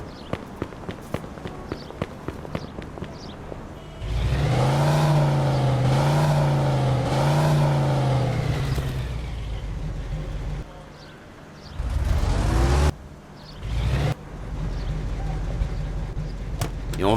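A car in the game Mafia 2 starts up and drives off, its engine surging through wavering revs after earlier footsteps, then dropping and picking up again while characters talk intermittently.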